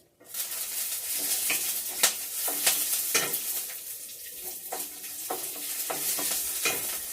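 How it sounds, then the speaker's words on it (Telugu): Green chillies fry and sizzle in hot oil for lemon rice, a steady hiss broken by the clinks of a spatula stirring the pan, close and fairly loud. "పచ్చిమిర్చి కూడా వేసేసుకుంటాం"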